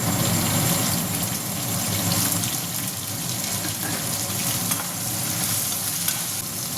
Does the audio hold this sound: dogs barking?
no